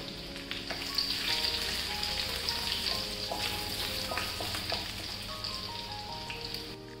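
One and a half teaspoons of finely chopped garlic sizzles in hot oil for chicken fried rice, a steady, close frying hiss broken by occasional light clicks and stirs, with no talking.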